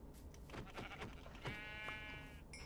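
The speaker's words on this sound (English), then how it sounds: "Oh, I heard a sheep." A sheep in Minecraft bleats several times in quick wavering calls, fairly quiet, with a short electronic tone near the end.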